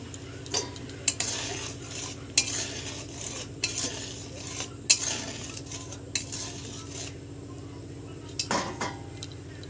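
Mustard hilsa gravy simmering in a pan while being stirred, with repeated clinks and scrapes of a spoon against the metal over a low, steady bubbling.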